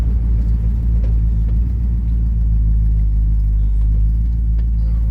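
A van with a rebuilt Edelbrock carburetor rumbles low and steady while driving, the engine drone constant with faint road noise and no clear talk.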